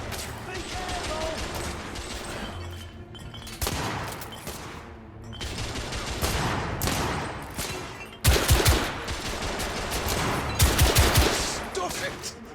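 Gunfire from The Order: 1886 erupts in repeated bursts of shots with loud cracks that grow denser toward the end, mixed with shouting voices and game sound effects.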